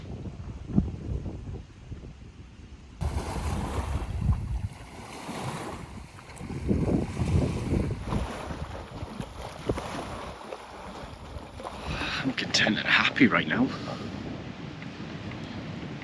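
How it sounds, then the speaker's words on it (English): Wind buffets the microphone over a steady wash of ocean surf, with a person speaking briefly partway through. "Just a gentle breeze, can hear the ocean."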